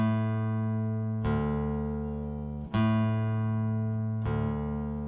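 An acoustic guitar sounds a hook on its low bass strings: three sustained, ringing notes, each struck crisply and left to decay, played close and clean with nothing else around.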